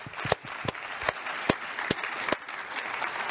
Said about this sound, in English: We're just going to now give them a warm round of applause to thank them very much for joining us.